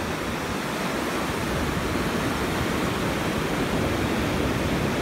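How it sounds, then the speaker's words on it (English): Ocean waves washing up on a sandy beach at low tide, a continuous broad rushing wash of surf, steady and fairly loud, with no talk. "the waves will wash up as you're seeing them washing up"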